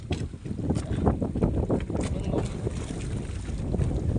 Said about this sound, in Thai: โอ้โหลมแรงมากเลยลมแรงไม่ว่า หนาวอีกต่างหาก